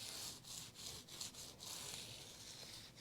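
A file rubbing along the fret bevels of a PRS Swamp Ash Special guitar, giving quick repeated scraping strokes up close at a low level with no talking.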